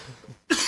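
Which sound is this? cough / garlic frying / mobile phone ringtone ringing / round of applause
cough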